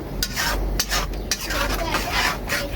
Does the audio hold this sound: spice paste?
yes